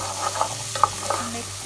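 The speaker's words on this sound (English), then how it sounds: "Saute the onions first." Chopped onions sauteing in a pan for mushroom soup, a steady sizzle with a few stirring scrapes and clinks, close and fairly quiet, with no talking.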